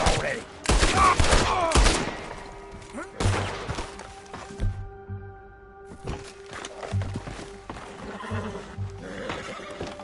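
Gunfire in Red Dead Redemption 2 during a wagon confrontation: a loud, dense burst of shots at the start, followed by quieter horse sounds and scattered thuds from the game.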